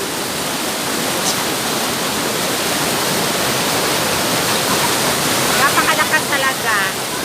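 Powerful rushing water at Tamadong Falls, a hidden waterfall in Barangay Mukas, roars as a steady, dense broadband wash close by, with a voice briefly audible under the torrent near the end.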